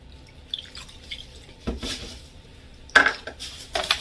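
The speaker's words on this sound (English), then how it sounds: "And I'm going to keep stirring." Milk being stirred into a mac and cheese sauce in a pot, heard as a few soft scrapes and clinks of a utensil against the pot with gentle liquid drips, close and fairly quiet.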